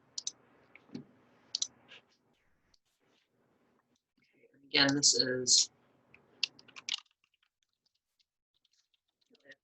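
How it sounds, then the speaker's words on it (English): Computer keyboard typing in a biology lecture setting, with short bursts of clicking keys scattered through the clip, fairly close and light, separated by quiet gaps and a brief stretch of spoken words. "Just typing."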